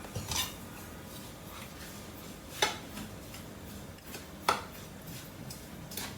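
Milk sweet ingredients with desiccated coconut and milk powder are stirred together in a bowl with a spoon, giving soft scraping and three sharp clinks of the spoon against the bowl, quiet and close, no voices.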